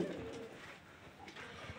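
Pigeons coo softly nearby, low throaty calls over a faint background hum.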